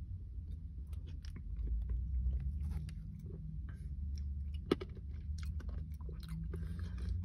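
Close, steady chewing of cappuccino chip ice cream with dark chocolate chips, eaten from a cup, with soft mouth sounds and a brief click partway through and no talking.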